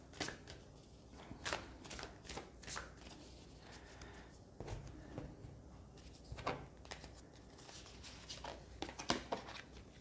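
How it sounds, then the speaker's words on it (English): Quantum Oracle cards being shuffled by hand during a tarot reading, a quiet, close series of soft riffling and flicking bursts repeating irregularly throughout. "I'm going to go ahead and pull some Quantum Oracle cards"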